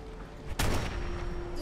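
A single sharp gunshot bursts out in the video game Fallout 4, loud and abrupt with a short decaying tail over faint background game sound.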